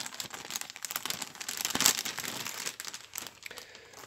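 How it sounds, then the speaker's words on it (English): Resealable plastic bag holding ICM Spitfire Mk IX model kit sprues being opened and handled, steady close crinkling and rustling of thin plastic with a brief tearing peak midway, alone without talk. "the other bag of sprues, which is all your personnel and tools, etc. Right, let's get that one out. Again, in a resealable bag."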